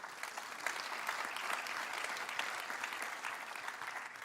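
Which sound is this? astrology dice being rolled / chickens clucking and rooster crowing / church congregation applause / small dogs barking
church congregation applause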